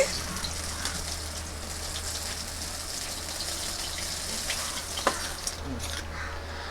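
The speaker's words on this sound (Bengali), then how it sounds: "বন্ধুরা, এবার বাকি যার দুটো মাছ রয়েছে সেই দুটো মাছকেও এইভাবে ভেজে নেব" Pabda fish frying in hot oil for a shorshe pabda dish, giving a steady broadband sizzle that runs continuously with a few brief pops and spatters, close and moderately loud.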